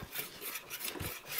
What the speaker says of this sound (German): natürlich sie vorher noch alle verputzen, die alten Markierungen weghobeln